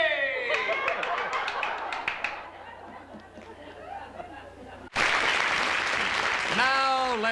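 An audience applauds and chatters with light laughter for several seconds at a comedy show, the clapping thinning out before music and louder crowd noise abruptly take over.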